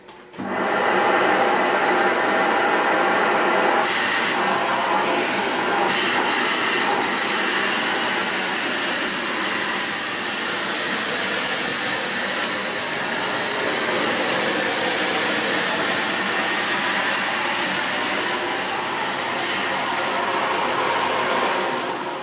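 A Dyson Big Ball Animal cylinder vacuum (CY23) runs in carpet mode on carpet. Its loud, steady suction roar starts almost at once and holds constant throughout, with small shifts as the head moves.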